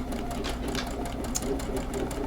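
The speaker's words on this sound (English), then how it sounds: "I just stack my seams and sew all of them at one time." A sewing machine chain-stitches eight binding strip seams in a row, its steady motor whir running continuously and loud close by, with faint talk underneath.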